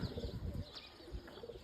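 Pigeons coo softly on a village rooftop, repeated low throaty calls with faint chirps and background hiss, quiet and somewhat distant.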